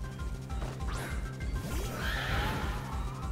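Glastrier, the ice horse Pokémon, lets out its cry in a competitive VGC battle: a loud, shrill whinnying neigh that sweeps upward and then falls, over crashing game sound effects.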